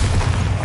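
A Bombarda blasting spell explodes in Hogwarts Legacy as a single loud, deep, close boom that fills the brief moment with dense rumbling.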